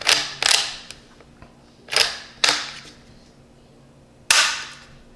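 Dry-fire trigger pulls on a Marlin 983T rifle with an upgraded light trigger: five or six crisp, sharp mechanical clicks, some in quick pairs, close-up and isolated against near silence.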